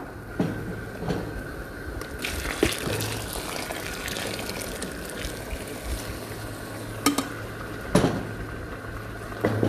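Warm water pours and splashes into a pot of red lentil soup with a steady rushing sound, broken by a few sharp clanks and knocks.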